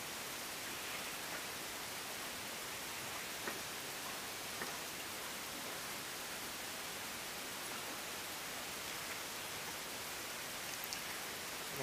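Water rushes under the hull of a sailing yacht gliding in a fresh breeze, a steady, even hiss that stays constant and fairly quiet throughout with no voices.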